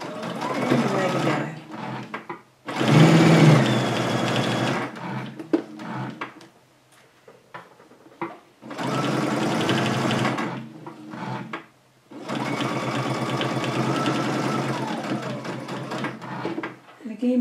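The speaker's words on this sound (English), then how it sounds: "we're going to pop that into the machine. We're going to sew it with a quarter of a seam" A sewing machine stitches a placemat binding in several long runs of rapid, even needle clatter, broken by short pauses, close at hand.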